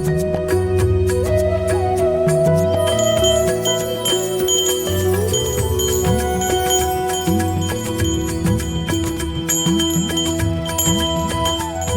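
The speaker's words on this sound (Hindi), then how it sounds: "घंटी की आवाज इतनी रात को?" A bell rings and jingles over sustained ringing tones at night, loud and steady throughout, with no one talking, likely from a stray cow or buffalo in a village.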